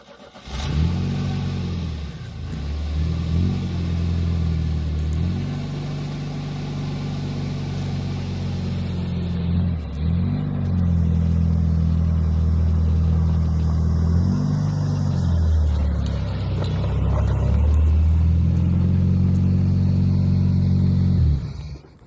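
A junkyard Chevy S10 engine cranks over repeatedly with a rhythmic, labored churn, then catches and runs at a loud, steady idle with some revving, close by and without talk.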